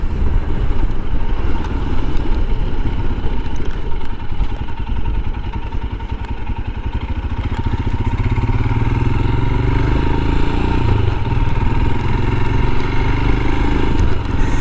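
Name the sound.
Royal Enfield Himalayan motorcycle riding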